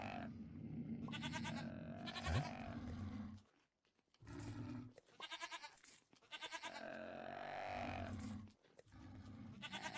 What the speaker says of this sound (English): Is this a goat? This is a goat.